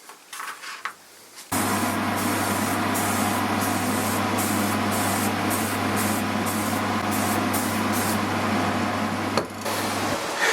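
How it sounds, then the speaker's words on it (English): Aerosol spray can painting small desk hardware gold: a steady hiss runs for about eight seconds after a quiet start, made of short spurts, then cuts off abruptly near the end. "But the rest of it, I want it to be gold. So I'm just going to spray these."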